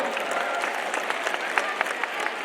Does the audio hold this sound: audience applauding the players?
yes